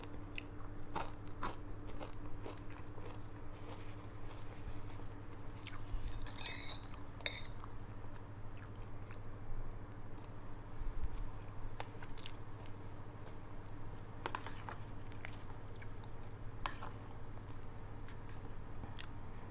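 Someone eating rice with crispy fried sun-dried fish, close, repeated crunchy bites and chewing with occasional clinks of utensils on a plate, no talking.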